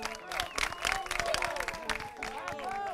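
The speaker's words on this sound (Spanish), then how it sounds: "repitamos por favor la ovación para el señor catedrático de la Universidad de Utah" A studio audience on a Spanish television show applauds and cheers a University of Utah professor, dense sustained clapping with a voice speaking over it.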